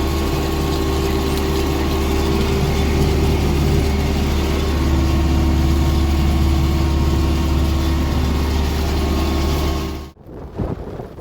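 A diesel MTZ-82 tractor pulling a homemade plow through a field drones with a steady, loud low engine rumble for about ten seconds, then abruptly cuts out near the end.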